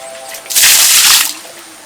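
Water pours down in a Hindi-language CG cartoon comedy, a loud, sudden splashing gush lasting under a second, then falling away to a quieter background, with no talking.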